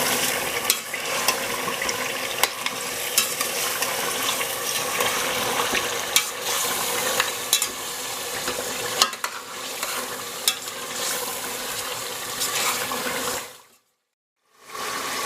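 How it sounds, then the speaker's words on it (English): Chili powder and crushed red chilies are stirred into a sizzling lamb curry, steady frying hiss with repeated scraping strokes of a spoon against the pot, close by, cutting to silence briefly near the end. "I want to stir all of that in nicely"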